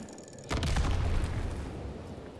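Suppressing gunfire from rifles in a Call of Duty WW2 match erupts after a brief quiet, a loud close volley that then rolls on as rumbling battle noise.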